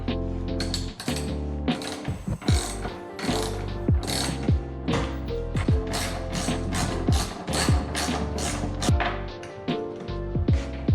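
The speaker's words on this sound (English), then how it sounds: "there's actually these 2 10mm bolts that we're gonna have to take off" Ratchet wrench backing out 10mm bolts on a Toyota GR86 during a fourth brake light install, with a steady run of fast, close mechanical clicking bursts repeating throughout, loud and with no talking.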